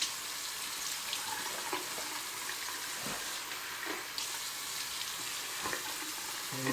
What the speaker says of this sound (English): We're just going to rinse with the sink.